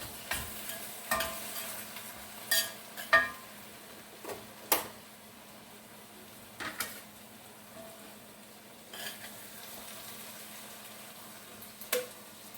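Fried cabbage with bacon bits and okra sizzles softly in a pan, with a low frying hiss broken by scattered clinks and scrapes of stirring.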